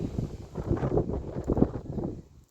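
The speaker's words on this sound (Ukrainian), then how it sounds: "Це не телефоном я хитаю, це мене хитає від, від вітру." Strong wind gusting outdoors through a garden where rose bushes are tied up, loud, continuous buffeting against the microphone with rustling, swelling and easing over a couple of seconds.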